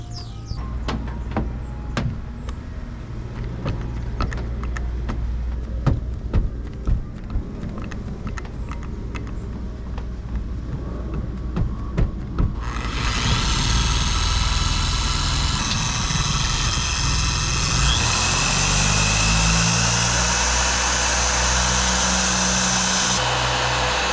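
A TORQ dual-action polisher buffing a car's paint, starting with scattered knocks and handling noise, then switching on about halfway into a steady, loud whirring drone that holds to the end, with no talking.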